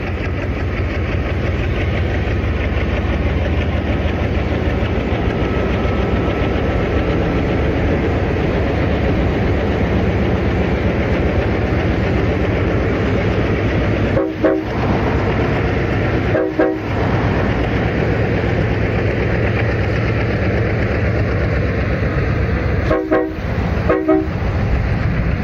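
Mexico's Pacifico Railroad locomotive 42 backing out of a siding, a steady low rumble of engine and rolling wheels lasting throughout, with several short horn toots partway through.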